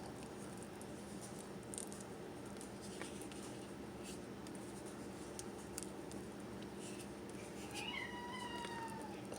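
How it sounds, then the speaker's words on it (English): A house cat meows faintly a couple of times in the background of a quiet kitchen while body butter is being whipped, with a soft, steady room hum underneath. "Sorry, that's my cat."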